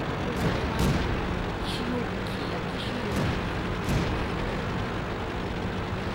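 Several heavy tank cannon booms from the video game World of Tanks, spaced a second or so apart over a continuous rumbling background.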